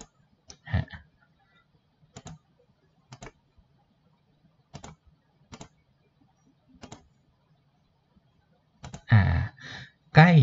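Computer mouse clicks while using GIMP's Free Select tool, sparse single dry clicks spaced a second or so apart against near silence, with brief bursts of a man's speech near the end.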